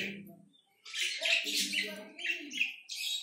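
Many aviary birds chirp and twitter together at morning feeding time, a dense, steady chorus of high calls close by, with a brief low murmur at the start before the birds grow busy.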